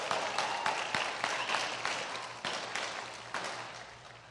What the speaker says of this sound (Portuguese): uma salva de palmas para o meu irmão, Hudson Marçal.